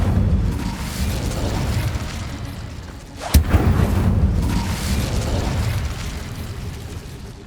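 A fire spell cast in Hogwarts Legacy lands as a sudden sharp blast in the middle of a loud, rumbling combat bed, followed by a swelling roar that slowly fades, with no talking.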